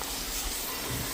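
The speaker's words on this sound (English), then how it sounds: "not spray water into stuff for high pressure on things that are sensitive" Steady broadband hiss of a high-pressure water sprayer washing farm equipment, close and continuous with no talk over it.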